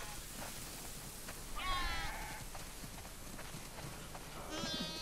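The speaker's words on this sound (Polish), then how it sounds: "Rany, sporo tych owiec." Sheep in a barn in the video game The Last of Us 2 give two wavering bleats a few seconds apart, over a low ambient hush with faint speech-like murmur.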